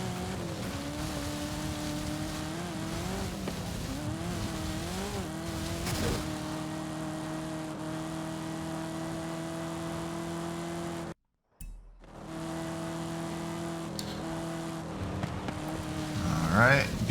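A Chevrolet Camaro driving in the video game Forza Horizon 5, a steady engine drone holding pitch with small rises and dips, briefly cutting out near the end before resuming and climbing in revs.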